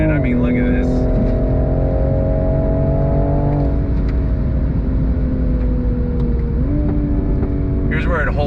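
A modified 2022 Toyota GR Supra engine drones loudly while driving, its pitch stepping down sharply on downshifts and then climbing again.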